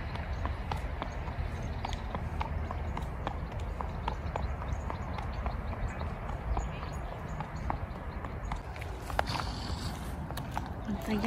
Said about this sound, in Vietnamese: Ta dắt ngựa ra ngoài chơi đó đại gia đình.